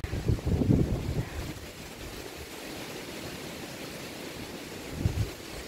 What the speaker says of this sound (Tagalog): sobrang lakas ng bayo ng hangin dito